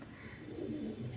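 Pet pigeons at a home loft coo in a low, soft, throaty burble that rolls continuously through a short moment, close by with faint background noise.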